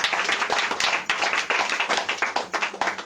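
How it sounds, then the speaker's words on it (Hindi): A church congregation clapping hands together, a dense rhythmic burst of claps that rises and dips in quick beats, fairly loud and close with no talk over it. "ताली बजाइए।"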